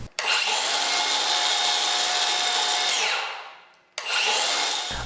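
A Milwaukee M18 cordless circular saw (2631-20) whines at high speed through wood, cutting steadily for about three seconds before spinning down, then starts up again sharply; loud and close with no talk.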